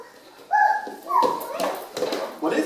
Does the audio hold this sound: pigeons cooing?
no